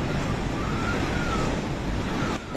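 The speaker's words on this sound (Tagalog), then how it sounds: "Sumisipol ang napakalakas na hangin sa Gonzaga," Strong wind roars steadily in Gonzaga, Cagayan, with a faint high whistle running through the broad rushing noise.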